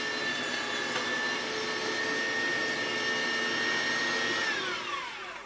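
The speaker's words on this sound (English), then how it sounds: "I'm grinding it nice and coarse. I've had the meat in the freezer for about an hour." An electric meat grinder runs steadily, coarse-grinding freezer-chilled meat for andouille sausage, with a constant loud motor whine that holds for several seconds, then drops in pitch as it winds down near the end.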